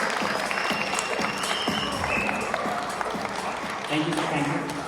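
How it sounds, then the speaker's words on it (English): Audience applause at a cinematography session for a guest cinematographer, a sustained round of clapping from a crowded hall with individual claps standing out, while voices murmur beneath it toward the end. "Just give a big round of applause to Ajay Mitchell sir."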